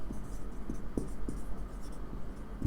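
A pen writes a line by hand on paper, soft scratchy strokes with small rhythmic taps, close and fairly quiet against a low room hum.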